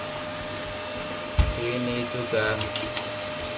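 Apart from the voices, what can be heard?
vacuum cleaner running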